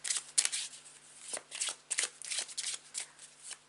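Tarot cards are shuffled by hand close to the microphone, a series of quick crisp riffling bursts and soft slaps in an irregular rhythm, with no talking.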